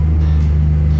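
Vintage Chrysler Airflow car engine idling steadily, a deep continuous low rumble with no voices.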